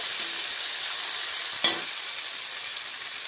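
Onions sizzle steadily in hot oil as they brown for a bottle gourd and fish head curry, a loud close hiss with one brief scrape of a spatula midway.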